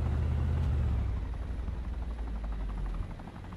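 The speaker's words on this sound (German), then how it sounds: "Heli." A helicopter in the video game DayZ Epoch roars close and loud, with a steady chopping rotor drone and heavy low engine rumble that fades slightly toward the end, and no one speaks.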